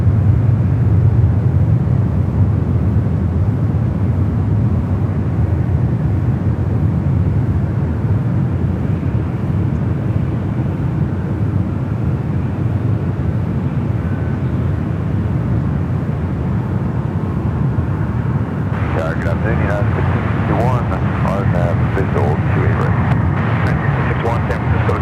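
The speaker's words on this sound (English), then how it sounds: "Delta A220 100. Next arrival on the 28s." A Delta Airbus A220-100 airliner arriving at San Francisco airport gives a steady, loud engine roar throughout, with people talking over it toward the end.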